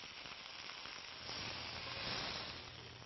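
Beef tenderloin sears in a hot pan, giving a faint, steady sizzle and hiss that swells slightly midway through, with no voices.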